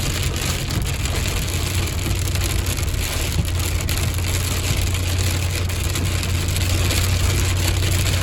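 Heavy El Niño storm rain pours steadily and densely, a loud continuous hiss and patter on surfaces, close and unbroken, with a low rumble underneath.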